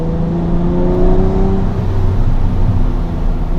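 Lamborghini Murcielago SV engine droning steadily while driving, a loud continuous low growl with slowly shifting pitch and no sharp revving bursts, no one talking.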